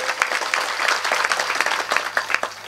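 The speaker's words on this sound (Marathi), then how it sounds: "त्यांच्याकडे जरा जोरदार टाळी वाजवा एकदा मस्त" Audience applause at a comedy kirtan devotional gathering in Marathi, a steady spread of many hands clapping with scattered sharper claps, moderately loud and sustained, with a faint low hum underneath.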